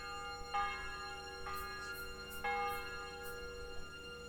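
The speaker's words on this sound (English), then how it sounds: "The bell's ringing for Hans the 5th time." A church bell rings in a medieval town in Kingdom Come Deliverance 2, with about three clear metallic strikes spaced roughly a second apart over a steady, faint background hum.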